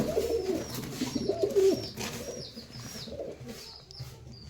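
Pigeons in a loft coo low and throaty, a couple of rolling calls near the start fading into softer murmurs over light background noise.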